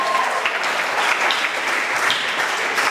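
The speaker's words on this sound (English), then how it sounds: "Sam, give her a round of applause." A magic show audience claps in sustained, dense applause, close and even for a few seconds without a break.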